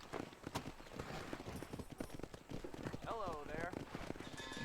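Horse hooves clip-clop in Red Dead Redemption, a quick series of close hoofbeats over the game's ambient sound, with a short whinny-like tonal call partway through.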